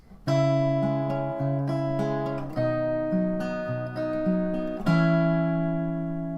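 Acoustic guitar plays the ending of the chorus of a song, strummed sustained chords changing every second or so, ringing clearly and alone.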